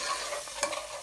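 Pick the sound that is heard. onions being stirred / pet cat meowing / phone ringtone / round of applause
onions being stirred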